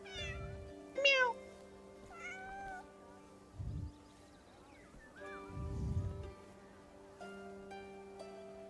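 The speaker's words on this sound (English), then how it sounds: "I hear you meowing, but I don't see you" A cat in the video game Crimson Desert meows several times with pauses between calls, some drawn out and rising, against a quiet background with soft low thumps.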